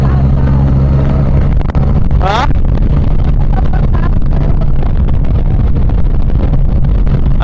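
A Yamaha Tracer 900 inline-three motorcycle being ridden over Aglubang Bridge in Victoria, Oriental Mindoro, its low engine drone mixed with heavy wind buffeting on the microphone, loud and constant, with a brief voice.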